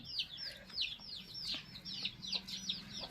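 Free-ranging chickens pecking at bowls outdoors at midday make a quick series of high, repeated calls in a steady rhythm, close and moderately loud over a quiet low background.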